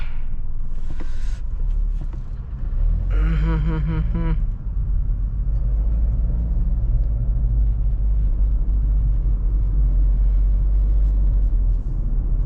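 A Nissan Magnite Turbo CVT climbs a hill on an evening drive, giving a steady, close low engine and road rumble inside the cabin, with a brief harmonic tone from outside partway through.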